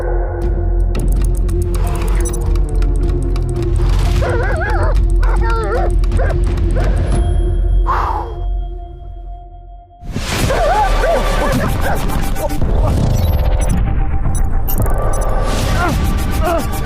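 A young German Shepherd in military attack-dog training barks and yips loudly while chasing at close range, with whimpers, whooshing movement and a short lull before the barking resumes; a person talks over parts of it.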